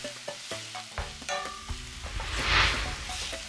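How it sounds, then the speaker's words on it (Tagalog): Fresh tomatoes softening in a pan for eggplant pasta alla Norma sizzle under a few sharp utensil taps and scrapes, and the frying hiss swells louder toward the end. "Saute for 4 to 5 minutes or hanggang lumambot na ang tomatoes"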